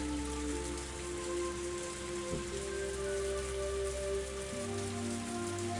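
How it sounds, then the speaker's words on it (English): Steady rain drumming on a car roof, a Higurashi visual novel sound effect: a constant dense patter with a low hum beneath, even and unbroken, with no voices. "The only sounds to break the silence were the percussion of the rain on the roof and the soft squeak of the windshield wipers."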